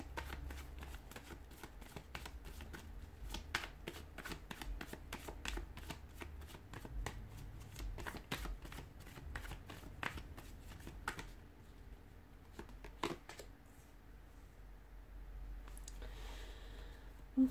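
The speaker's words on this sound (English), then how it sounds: "give the cards a shuffle" Tarot cards being shuffled by hand during a card reading: a steady run of soft riffling and flicking for most of the stretch, thinning into a few scattered taps and slides near the end, with no talking.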